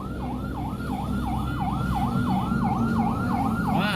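Ambulance siren wailing steadily in a rapid rising-and-falling pattern on Jalan Raya Palabuhan Batu, loud and close over continuous road and engine rumble.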